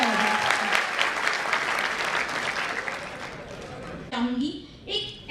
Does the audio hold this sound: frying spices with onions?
no